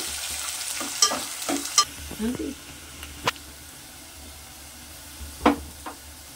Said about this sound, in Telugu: ఆనియన్ గోల్డెన్ కలర్లో వచ్చే వరకు వేయించుదాం.